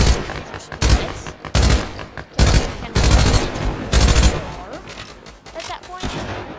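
Rapid bursts of SMG fire crack out in a video game, several short volleys in a row that trail off into quieter shots near the end.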